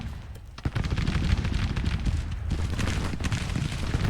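Civil War artillery battery fire in the strategy game GT:CW, heavy booms and rolling cannon reports layered over a continuous din of distant musketry and battle rumble, with sharp blasts standing out.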